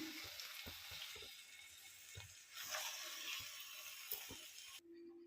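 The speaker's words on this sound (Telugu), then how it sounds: "మళ్ళీ గోంగూర కొంచెం ఆయిల్ వేసాను ఒక స్పూను గోంగూర కూడా వేయించుకుందాం" Gongura leaves frying in a little oil, with a soft, steady sizzle and faint stirring clinks at low volume, and no voices.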